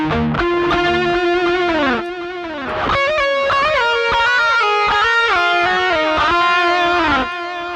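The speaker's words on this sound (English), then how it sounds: "You can hear it's a great sounding delay unit right built into the effect" Electric guitar played through the delay of a Rocktron Utopia G300 multi-effects pedal, sustained melodic notes trailing repeating echoes that overlap and decay, loud and close with no talking.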